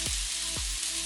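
Onions, shredded carrots, peppers, bok choy, mushrooms and baby corn sizzle steadily in a hot pan for duck lo mein, a loud, even hiss close up with no voices.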